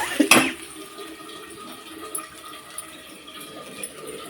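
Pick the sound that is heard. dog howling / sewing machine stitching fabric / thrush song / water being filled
water being filled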